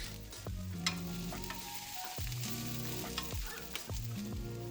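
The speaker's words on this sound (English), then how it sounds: "Get a pan hot with some olive oil, add in some garlic and some onions, and then just mix that until fragrant" Garlic and onions fry in hot olive oil in a pan with a steady, close sizzle and occasional stirring clinks, while soft music plays underneath.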